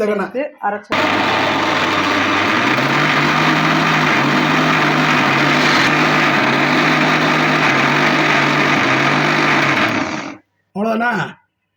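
A kitchen mixer grinder grinds banana flower for vada with a loud, steady high-pitched whine of about ten seconds, framed by short bursts of speech before and after.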